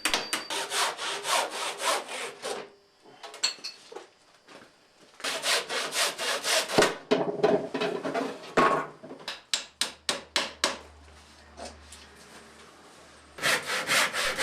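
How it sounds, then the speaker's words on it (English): Wooden laths for a traditional lobster pot are hand sawn at angles, with bursts of steady back-and-forth strokes, close and loud, separated by brief pauses and a quicker run of sharp strokes near the end. "Each of the laths in turn have to be sawed on angles so that they fit along the bow."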